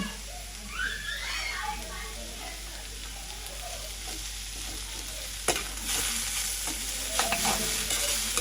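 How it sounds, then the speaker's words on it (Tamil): Snake gourd sizzling in a hot pan after salt is added, a steady close frying hiss that swells louder in the second half, with a voice speaking over the start. "புடலங்காய்க்கு வந்து நாங்கள் உப்பு போடுவோம் சத்தத்தை பாருங்கள்"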